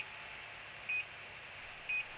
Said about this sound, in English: a single beep is sounded, and a visual alert is also displayed on the dashboard.